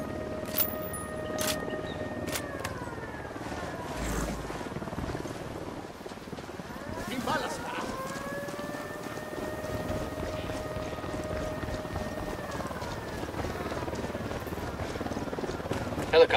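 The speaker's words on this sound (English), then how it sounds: "Helicopter incoming." A helicopter approaches in the tactical shooter Ghost Recon Wildlands, its rotor drone and whining turbine holding steady and shifting in pitch under game sounds while voices talk over it.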